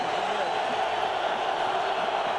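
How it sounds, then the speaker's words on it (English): Steady, dense roar of a large stadium crowd at an NFL playoff game between the Jets and Raiders in Oakland, continuous and even, beneath a broadcast commentator's voice. "Crowd noise is just not that big right now."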